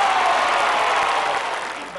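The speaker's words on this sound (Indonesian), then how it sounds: "Tepuk tangan untuk Ikip dong." A studio audience on an Indonesian game show claps steadily for a contestant, a dense, even wash of applause that fades slightly toward the end, with no talk over it.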